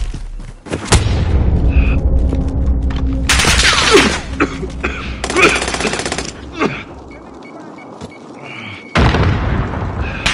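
Call of Duty gunfire erupts in loud automatic bursts separated by short gaps, mixed with booming impacts and explosions, close and dense, with in-game voice callouts heard between the volleys.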